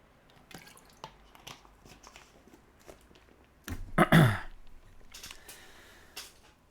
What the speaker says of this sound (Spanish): Vale, un sorbito de agua.